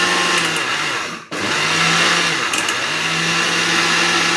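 A mixer grinder grinding semolina whirs loudly at close range, stops briefly, then starts again and keeps grinding with a steady high-pitched whine.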